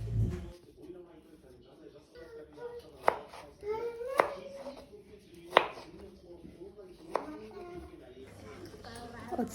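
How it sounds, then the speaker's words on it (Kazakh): Fresh tomato diced into cubes on a board, several sharp knife chops spaced irregularly over faint room noise, with a person talking quietly in between. "свежий помидор, оны кубиктап турап аламыз"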